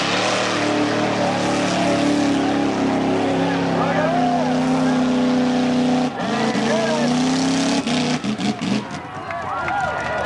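Chevy truck racing through a mud bog at an outdoor event, its engine roaring loud and continuous with harmonic drone, a crowd and announcer voice mixed underneath, the engine note dipping briefly near the end.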